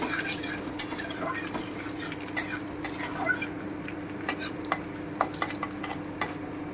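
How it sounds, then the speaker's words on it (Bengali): Crushed garlic fries lightly in a pan with a soft, steady sizzle, while a utensil stirs and scrapes against the pan in repeated sharp clicks and taps, close by. "এবারে আমি রসুন থেতোটা দিয়ে দিচ্ছি হালকা করে একটু ভেজে নিচ্ছি"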